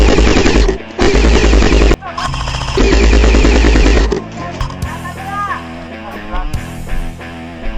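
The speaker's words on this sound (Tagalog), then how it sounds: "Patuloy ang putukan hanggang sa nakuha namin ang malakas na posisyon ng mga kalaban" Rapid airsoft gunfire rattles through an assault in an airsoft battle, loud bursts of fast clicking shots cutting in and out, then easing into scattered, sharper single cracks and short volleys.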